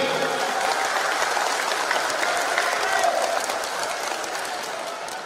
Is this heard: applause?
yes